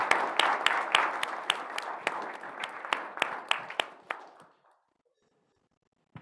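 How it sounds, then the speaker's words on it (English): Audience at a school board meeting claps in a scattered round, individual sharp claps standing out, fading away after about four seconds into silence before a couple of faint knocks. "please join me in one more round of applause for all our commended students and for our semifinalists"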